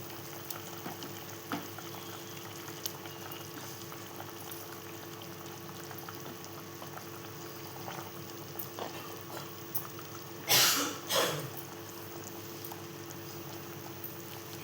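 Small pomfret fish slide into a simmering, untempered kalvan curry: a steady low bubbling runs throughout, broken near the end by two quick, close splashes as the fish drop in.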